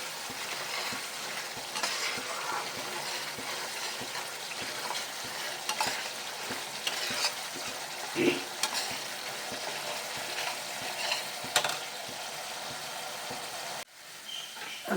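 Spice paste frying lightly in a pan for bhetki fish, with a steady soft sizzle, occasional stirring scrapes and a brief dip near the end.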